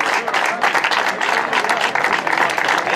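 A crowd applauds loudly at an awards presentation during a hill-climb motorsport event, dense rapid clapping sustained throughout, close and energetic.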